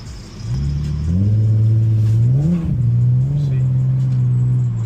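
An Infiniti G37X with a swapped VR30 engine accelerates through a turn, its steady engine drone rising and dipping in pitch as it pulls, loud and close inside the car.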